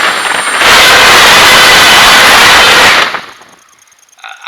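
A quadcopter drone on 5-inch blades and a 3S battery rises abruptly to a loud, high, hissing whine at throttle, holds for about two and a half seconds, then drops away to faint motor tones.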